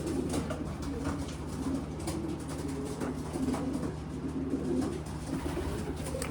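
Racing pigeons coo steadily at close range, their soft rolling calls continuous over a low, constant background hum.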